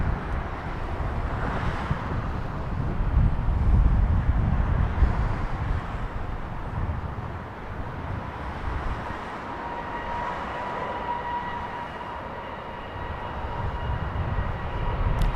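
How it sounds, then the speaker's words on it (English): A Delta Boeing 737 spooling up its engines at LAX, a broad steady jet roar heard from a distance with a rising whine laid over it and wind buffeting the microphone. "Spooling up its engines."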